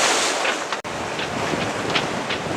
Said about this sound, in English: Breeze is piped up a bit.